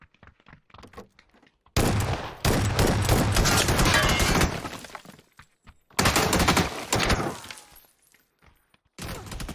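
Two loud bursts of sniper and rifle gunfire from the PUBG video game, each crackling for a few seconds, separated by quieter gaps with faint sounds.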